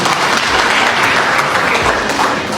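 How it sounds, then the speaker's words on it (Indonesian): An audience claps to welcome a regent at a public event in Manokwari, West Papua, a dense and continuous wash of applause that stays even and loud throughout, with no voices on top. "Kita beri aplaus kepada Anda."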